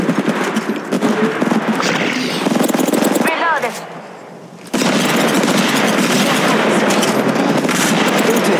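Rapid gunfire in the mobile battle royale game Apex Legends Mobile, dense bursts of shots that run loud and nearly continuous, broken by a brief lull in the middle before the firing resumes.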